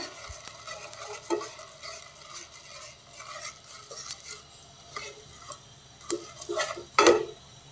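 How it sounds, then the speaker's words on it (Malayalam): Thick peanut candy syrup with baking soda stirred in a pan, giving scraping spoon-against-metal strokes and light clinks, a few sharper knocks near the end, with no voices. "എന്നിട്ട് നമുക്ക് നന്നായിട്ട് ഇളക്കിയെടുക്കാം."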